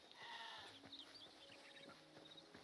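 Sheep bleat faintly in the video game Hytale, a few wavering calls over quiet background ambience with no one talking.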